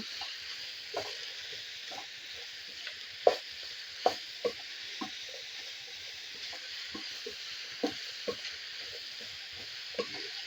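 Egg fried rice being stirred in a hot pan, a steady fizzing sizzle running throughout with irregular scraping and tapping strokes of the spoon against the pan, several louder knocks scattered across the clip, no voices.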